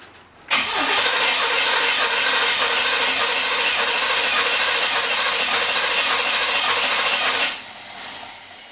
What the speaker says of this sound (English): this is the first time it's cranked over, if it will, in several years